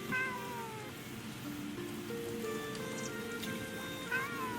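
A cat in the medieval game Bellwright meows several times, its high, drawn-out calls sounding close over a soft, steady background hiss.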